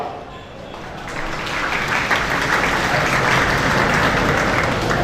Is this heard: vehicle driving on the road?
no